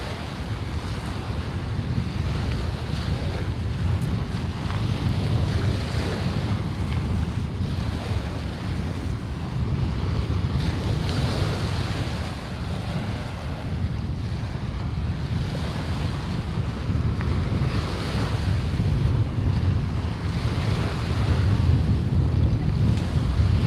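Waves and wind at Residents' Beach on Marco Island make a constant roar: surf washing in beneath heavy gusts buffeting the microphone, loud and unbroken throughout, with no clear voices over it.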